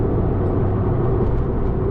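A remapped Abarth with an upgraded intercooler accelerating hard after a downshift, heard from inside the car as a loud, steady engine drone that holds even for two seconds with no talking.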